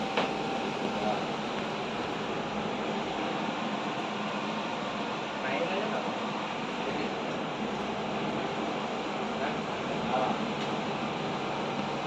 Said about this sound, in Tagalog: Set up na namin yung blower.